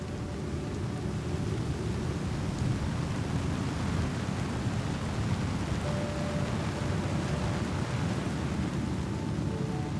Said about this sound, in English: Then the rain grew heavier until it drowned out every other sound.